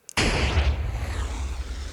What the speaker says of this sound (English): If you hear a short explosion, that's good.